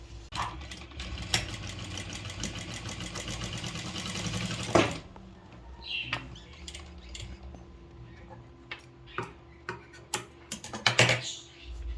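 Sewing machine stitching a latkan hanging for a lehenga or blouse runs in a fast steady rattle for about five seconds, then stops, followed by scattered clicks and fabric handling with a faint voice.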